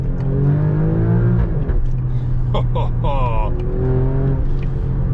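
A 2020 Alfa Romeo Stelvio Quadrifoglio engine revs and pulls hard, a throaty rising drone heard from inside the cabin, with someone talking over it.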